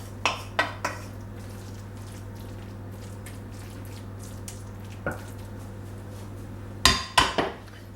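An aduki bean casserole mix is spread in a baking dish, heard as a few light clinks and scrapes of a utensil against the dish over a steady background hum.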